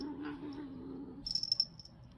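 A house cat makes a short burst of small high chirps near the end, after a stretch of quiet room hum, close to the microphone with no one talking.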